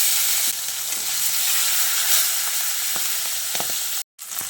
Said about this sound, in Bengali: ওই একইভাবে বাকি মাছটাকে আমি ভেজে নেব